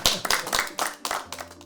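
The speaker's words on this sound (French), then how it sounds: "On applaudit, hein?" Audience applauding at a French talk event, a burst of hand claps with rhythmic pulses, fairly close and moderately loud, fading toward a low hum at the end.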